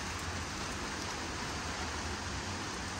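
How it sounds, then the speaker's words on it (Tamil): Steady rain falls continuously, a dense even hiss with no voices, heard during an Ayudha Pooja celebration day. "மழை பெய்யுது."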